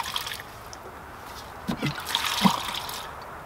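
Fuel system cleaner is poured into containers, a faint trickle and a few drips and splashes of liquid with small plastic knocks, quiet and intermittent in a calm room.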